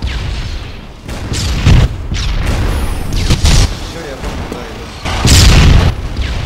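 Several deep booms of ship cannon fire go off in a loud, irregular sequence over a constant rumbling soundscape in the game Darkfall.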